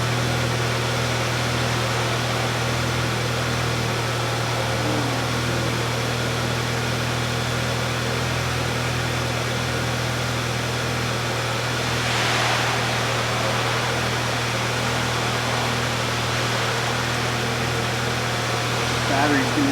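A 2009 Volkswagen Passat 2.0T with direct injection runs at a steady idle, giving a constant low hum with a fan-like wash over it, heard close by for a long stretch.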